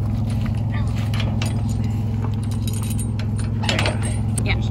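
Steel tow chains rattle and clink in a jangling metallic run while being fitted to a drop hitch on a big Sequoia, steady and close over a constant low engine hum.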